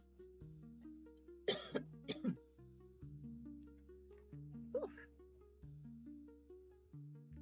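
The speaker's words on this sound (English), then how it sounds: "still coughing up a storm" Several sharp coughs burst out in a short cluster near the start, with another single cough a few seconds later, all sitting over steady background music.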